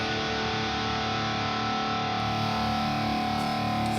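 A distorted electric guitar played through the Neural DSP Archetype Plini amp simulator on a 57 microphone setting holds a sustained chord, dense and even, with no voice.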